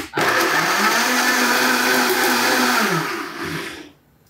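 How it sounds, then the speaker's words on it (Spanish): A blender runs loud and close for about four seconds, whirring a smoothie with agave honey into a steady roar whose pitch dips near the end before it shuts off. "estamos listos para licuar este delicioso licuado"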